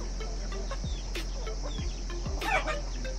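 Local village chickens clucking in a rural Nepali setting, a few short bursts and soft clucks over a steady low hum, with one brighter louder call near the end.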